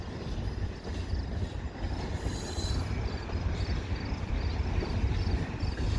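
Train slowing as it enters a rail yard over crossovers, with continuous low rumbling rolling noise and faint high wheel squeal throughout, steady and fairly close.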